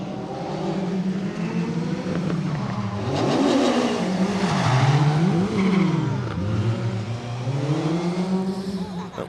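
A rally car at the Lee Holland Memorial Rally 2024 races past, its engine loud and near, revving and shifting up and down in a continuous roar for several seconds, with no talking.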